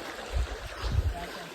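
Water released from a dam flows steadily as a soft, diffuse rush, with low rumbling swells like wind on the microphone. No one speaks.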